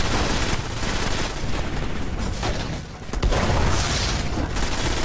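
Rapid gunfire and booming blasts from the sci-fi shooter game Destiny, fighting an invincible Legionary enemy, fill the whole stretch as a dense, continuous barrage with a brief dip near the middle.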